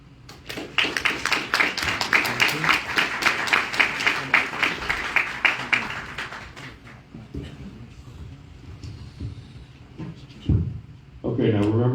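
An audience at a 7th Ward candidate forum in San Bernardino applauds in a steady, moderately loud round of clapping that fades after about six seconds, then a voice begins speaking.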